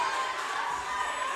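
A gym crowd at a Burn Boot Camp athlete competition cheers and shouts for an athlete finishing a heat, a steady, dense roar with no single voice standing out.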